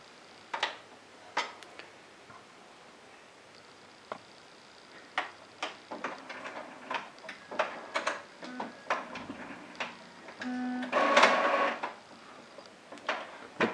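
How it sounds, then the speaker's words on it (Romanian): An Epson SX425W inkjet printer powers up with a run of irregular ticks and clicks from its mechanism, building to a brief whirring motor burst near the end before more clicks; no one speaks. "vom porni imprimanta."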